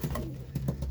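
Racing pigeons coo in low, soft calls, close by, with faint shuffling and patter of birds moving around them over a brief moment.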